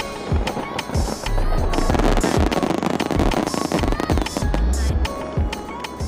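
Large fireworks display launched at Nijmegen for the 100th Four Days Marches, a dense barrage of rapid cracks, thumps and crackling bursts, loud and continuous throughout.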